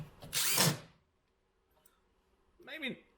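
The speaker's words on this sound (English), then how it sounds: "We will use power tools for that." A power drill runs in two short bursts with a pause between them, close up, during the repair of a Sony SA-CT60 stereo receiver.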